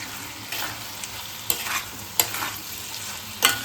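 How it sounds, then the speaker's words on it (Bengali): Potatoes with salt stirred in a pan for posto: a steady sizzle of frying oil, broken by firm spatula scrapes that come every second or so, close and with no talking. "নুনটাকে দিয়ে ভালো করে আবার নাড়াচাড়া করে"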